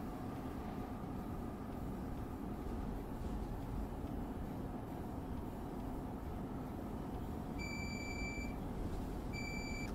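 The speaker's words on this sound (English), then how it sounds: "When you change ends, the alerter sounds continuously outside the train" The alerter of an ALP46 locomotive in Train Sim World 3 sounds two short, distinct electronic beeps near the end, over a constant low rumble of the running train.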